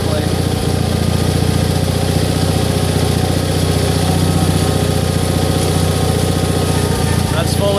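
The Air Horse aircraft tug, a tractor-like hydrostatic-drive machine, runs its engine steadily with a constant low, throbbing idle while its wheel lift engages, and the engine stays loud and close throughout.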